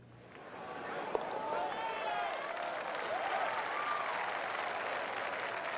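A golf gallery breaks into sustained applause after an eagle attempt, a broad wash of clapping from a crowd that holds steady throughout, with faint cheers rising through it.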